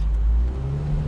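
A Nissan 350Z pulls away with a steady mid-range engine drone and a rising rev, close and loud over a brief moment, no talking.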